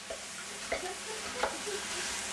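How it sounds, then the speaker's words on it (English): Quiet sizzling of leftover rice frying in a pan, with a few soft scrapes of stirring over a steady hiss. "I'm going to start frying the rice now"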